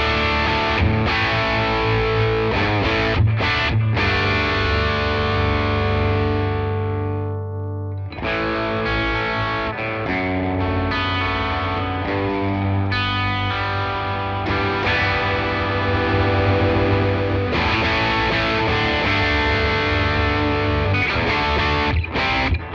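A Fender Maverick Dorado electric guitar with Filtertron-style humbucking pickups, played through effects with distortion and chorus, strummed chords and sustained ringing notes filling the stretch loudly with a brief drop midway.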